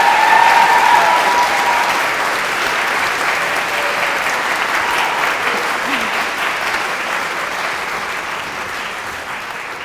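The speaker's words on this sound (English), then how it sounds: "let's have another round of applause for all the graduates in the School of Media Studies" Graduation ceremony audience for the School of Media Studies applauds in a sustained, dense wash of clapping that fills the room from start to finish, steady and loud with only a slight fade.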